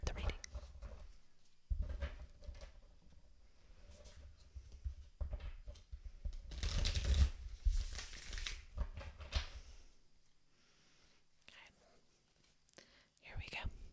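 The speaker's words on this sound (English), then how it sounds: "one more shuffle, and then we will start the reading" A tarot card deck being shuffled close to the microphone, with soft riffling bursts and papery rustles between quiet gaps, faint whispering in between.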